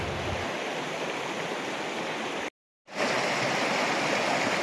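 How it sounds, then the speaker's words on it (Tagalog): River water flowing steadily in rural Davao Oriental, a continuous broadband rush heard alone, broken by a brief silent gap midway before resuming. "gaano kalinis ang tubig na umaagos sa ilog na ito"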